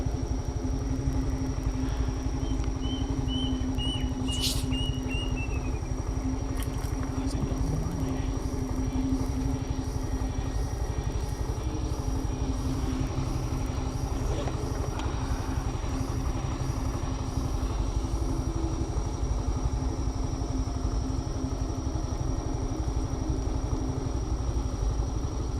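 A motorcycle engine idles steadily in a forest at night, a continuous low rumble running throughout with faint insect-like chirps and a brief high whine above it.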